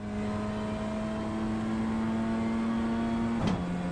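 A BMW M2 lapping a race track holds a loud, steady engine drone from inside the car, with a brief dip in pitch near the end as it shifts or lifts.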